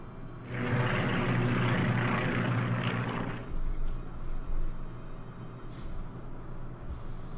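Aircraft droning across the map of a WWII strategy game set in 1939 Europe, a steady engine hum for a few seconds, then fading under scattered clicks and low rumbles.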